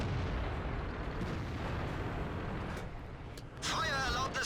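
Tank cannon fire from a Super Pershing battle in World of Tanks, faint distant booms under a low rumble, followed near the end by a louder sharper shot, with a voice talking over it.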